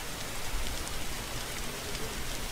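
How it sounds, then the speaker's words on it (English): Steady rain falls in a Roblox game world, a continuous broadband hiss of drops on surfaces that stays even and fairly loud throughout, with no voices over it. "A little rain never hurt anyone."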